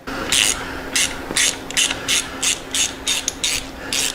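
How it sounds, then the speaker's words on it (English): Ratchet wrench backing a bolt out of a Harley-Davidson Softail motorcycle frame, giving about nine evenly spaced bursts of crisp clicking up close, with no talking. "We're going to go ahead and pull that bolt first."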